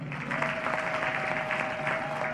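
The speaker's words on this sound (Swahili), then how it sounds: "naomba kwa pamoja tuwapigie makofi" A crowd at a Tanzanian public commemoration claps steadily, a dense, even wash of applause from start to finish without a pause.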